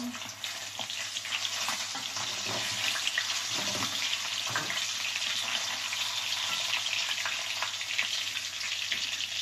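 Pork pieces frying in oil give off a steady, dense crackling sizzle that fills the whole span, with a few soft knocks and scrapes from a utensil near the start.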